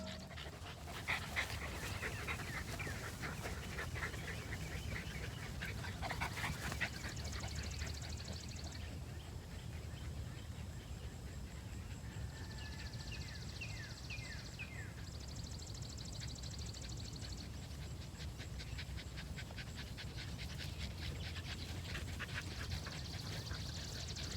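Several dogs pant steadily while walking on leash, with faint whimpers and bird or duck calls in the background, continuous and moderately close throughout.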